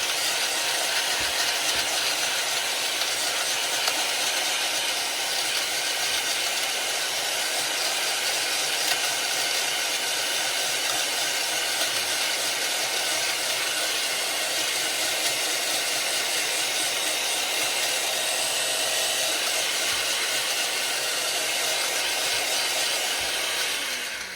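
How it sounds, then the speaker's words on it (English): A meat slicer blade runs steadily through dry meat, giving a continuous loud whirring, grinding hiss that holds unbroken and close for the whole stretch with no talking. "Taking the dry meat to the blade."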